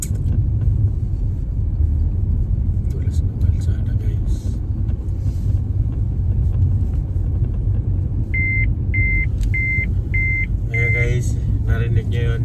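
A car's warning chime beeps five times in a steady rhythm, then a quicker burst, over the constant low rumble of driving on snow, with a voice talking at times.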